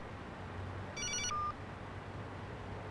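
A telephone rings with an incoming call: one short electronic ringtone burst rises briefly over a quiet, low background hum.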